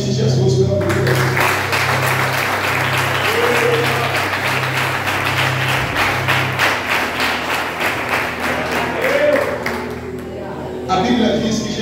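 Loud, sustained applause fills a church as the congregation claps steadily for several seconds, with a low hum underneath, then the clapping fades out toward the end.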